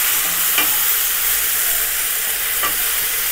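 Curry being stirred in a frying pan, a loud, close, continuous sizzle with two brief scrapes of the spoon against the pan.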